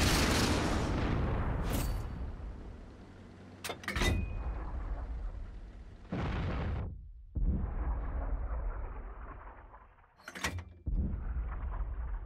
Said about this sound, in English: And now back to shooting at the Panzer 2J.